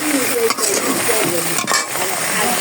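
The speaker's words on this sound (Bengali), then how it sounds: "এটা কষিয়ে নিই একটু। এটা কষানো হয়ে গেলে জল দিয়ে দেব।" Curry with paneer stirred and fried in a pan, a loud close sizzle with scraping spoon strokes against the metal, continuous with a couple of brief pauses, no speech.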